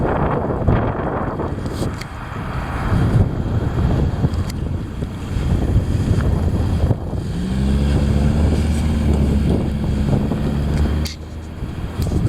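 Heavy wind roaring steadily across the microphone in gusty, loud bursts, with a deeper low rumble building toward the end, likely near open water.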